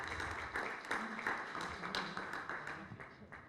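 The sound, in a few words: audience applause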